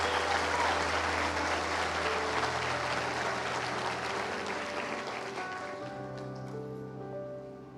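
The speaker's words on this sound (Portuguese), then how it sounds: "Dê uma salva de palmas a Jesus," Church congregation applause, loud dense clapping that gradually thins and fades over several seconds while a sustained instrumental chord rings underneath.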